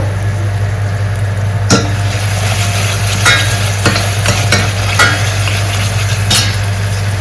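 Ginger garlic paste sizzles in a hot frying pan while being stirred, with steady frying hiss over a low hum and a few sharp scraping stirs.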